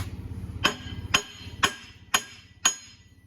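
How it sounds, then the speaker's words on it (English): Five evenly spaced hammer taps ring out one after another, each a crisp, close metallic knock with a short decay, tapping in a motor mount part. "You can tap it in with this handy dandy hammer."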